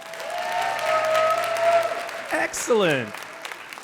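An audience at a live storytelling show in Northridge breaks into applause, a full, rolling burst of clapping that swells and then fades under someone speaking briefly.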